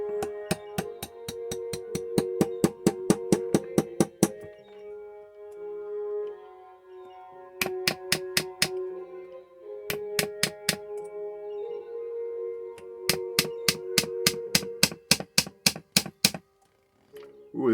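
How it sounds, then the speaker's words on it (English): Small jeweler's hammer tapping a punch to drive roll pins out of an Umarex Colt air pistol, heard as bursts of rapid sharp metallic taps separated by pauses, close and fairly loud. "my jeweler's hammer, and drive these roll pins out."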